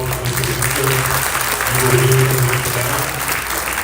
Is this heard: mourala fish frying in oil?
no